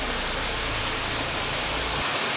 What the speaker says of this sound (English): it's fast-flowing spring water